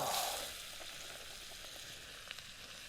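Mushrooms and onions frying in a pan over a campfire, a soft, steady sizzle that swells briefly as they go in, then settles to a faint crackle.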